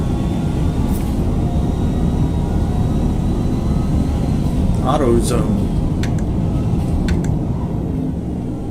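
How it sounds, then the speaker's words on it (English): Steady broadband wind rush fills a car cabin in the racing game Forza Motorsport, loud and constant and drowning out the engine, with someone talking over it and brief whooshes passing by. "Wind noise in this car is louder than the engine."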